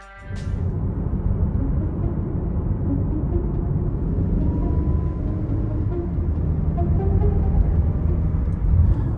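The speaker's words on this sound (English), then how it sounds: "this vehicle I'm riding in right now. It is moving." A moving vehicle rumbles steadily from inside the cabin, with a constant low road drone and no voices.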